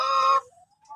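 Chickens on a breeding farm in the Philippines, decal brown birds, give a short burst of clucking up close, then fall to quiet, scattered calls.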